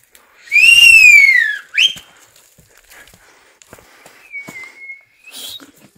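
A loud, shrill whistle, louder than a pressure cooker whistle, sweeps down in pitch, followed by a short chirp and later a fainter, steadier whistle; no talking.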